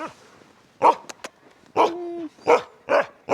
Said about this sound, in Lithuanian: Sniego šunis čia skaitos. Siberiniai haskiai.